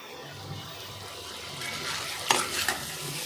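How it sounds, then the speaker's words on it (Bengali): A bhetki fish fry with chilli, coriander, cumin, ginger paste and turmeric is stirred in a pan, a low steady sizzle building to a few sharp scraping stirs near the end. "ভালো করে নেড়ে চেড়ে ফ্রাইটা তৈরি করা হলো।"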